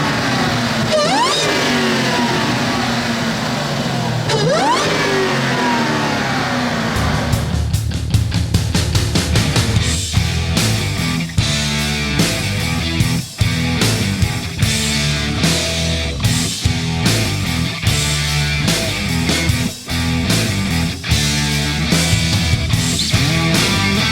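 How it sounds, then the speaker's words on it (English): A 2015 Dodge Challenger SRT Hellcat's supercharged engine revs repeatedly with loud intake induction noise, starting with a couple of rising sweeps and then breaking into rapid, punchy throttle blips, close and loud throughout. "let me get the induction noise too"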